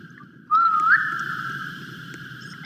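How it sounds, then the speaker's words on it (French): A single sustained whistle rises at the start, then holds a steady tone for about two seconds over a low background rumble. "C'est toi qui as sifflé?"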